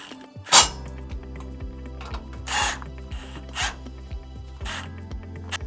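Screws being turned on the pedal mount under a cylinder-bed lockstitch sewing machine, heard as close ratcheting clicks and short metallic rubs over a steady low machine hum, with several brief louder scrapes and no talk.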